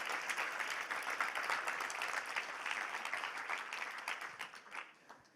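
Congregation in a church service applauding together, a dense steady patter of many hands that holds for several seconds and then thins out and fades near the end.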